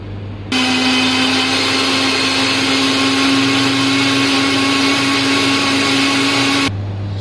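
An electric blender grinds diced tomatoes into puree, a loud steady motor whine that switches on abruptly and runs for about six seconds before cutting off, close by and heard alone.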